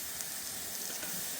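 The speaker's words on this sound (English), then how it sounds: "just keep chucking a bit of marinade on the top as it sizzles away" Marinated pork sizzling on an Ozpig Big Pig grill, a steady close crackling hiss that runs without a break and has no talk over it.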